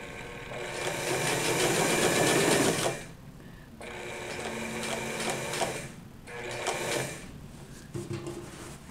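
A sewing machine topstitching a pair of pants runs in three loud steady bursts of rapid mechanical stitching separated by short pauses, close up and alone.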